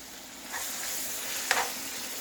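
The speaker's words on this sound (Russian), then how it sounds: "Нужно добавить сюда в сковородочку томатную пасту." Tomato paste fries in a pan for goulash, giving an even, close sizzle with a brief scrape of stirring partway through and no talking.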